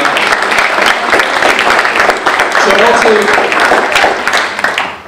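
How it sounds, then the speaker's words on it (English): A conference audience at a plenary session bursts into full, loud applause, many hands clapping densely throughout before easing off at the end. "Big round of applause for Stephen, but also for all the organizing committee members."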